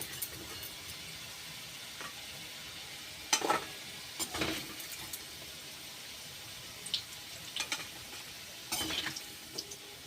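Potatoes fry in oil with turmeric and salt, giving a quiet low sizzle punctuated by a few scattered stirring clacks and scrapes close by.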